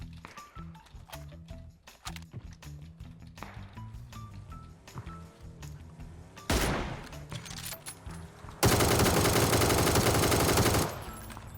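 PUBG gunfire with an M24 sniper rifle: scattered single shots and clicks, then a short burst and a long, loud sustained automatic volley that abruptly stops.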